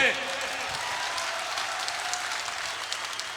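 An audience at a mushaira, an Urdu poetry gathering in Muzaffarnagar, breaks into sustained, dense applause, a continuous wash of many hands clapping at moderate distance.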